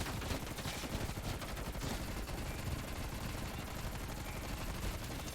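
Continuous automatic gunfire in the Call of Duty zombies map Die Maschine, dense rapid shots fired at armored zombies, loud and sustained with no pauses across the whole stretch.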